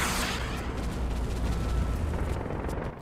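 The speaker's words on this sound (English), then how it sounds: "The explosions have weight and they're hot." A loud, sustained roar of explosions in the video game Project IGI, heavy rumbling blasts blending into one continuous thunderous wash that cuts off abruptly.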